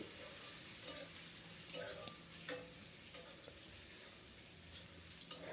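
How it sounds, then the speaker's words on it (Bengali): Grated ginger fries lightly in a pan with a faint, steady sizzle, broken by a few soft stirring clicks and scrapes at irregular intervals. "আদাটাকে এখন হালকা করে ভেজে নেব আদার কাঁচা গন্ধ যেন না থাকে সেইভাবে"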